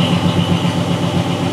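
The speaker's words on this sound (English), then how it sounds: "The exhaust is so loud I can't hear it." Idling 1986 Monte Carlo SS engine with a loud exhaust, producing a steady, close, low droning rumble that holds even and unbroken throughout.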